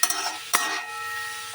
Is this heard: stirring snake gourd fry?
yes